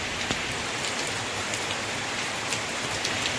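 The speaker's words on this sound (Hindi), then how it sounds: "ज़बरदस्त बारिश हो रही है।" Heavy rain pours down in a loud, dense, unbroken roar, with occasional sharper drops splashing nearby.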